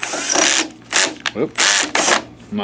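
Power drill on clutch setting 1 driving screws during cleaning of a BenQ W6000 DLP projector, heard as several close, loud ratcheting bursts of clutch slip with short pauses between them.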